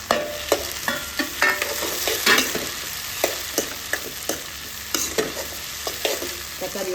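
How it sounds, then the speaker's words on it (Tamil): Tomatoes, onions, garlic and eggplant sautéing in oil for a kathirikai kuzhambu, with continuous close sizzling and repeated spoon scrapes and taps as the pan is stirred, no voices. "தக்காளி எல்லாம் சேர்த்து வதங்கிட்டு"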